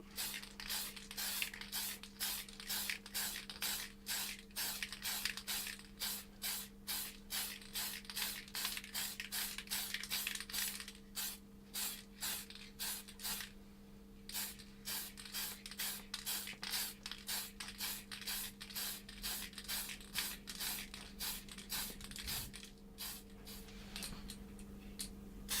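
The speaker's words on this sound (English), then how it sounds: "Get a little test spray first." A spray paint can hissing in many quick, evenly spaced bursts while painting an RC car body shell, steady and close, continuing throughout with a short pause near the middle.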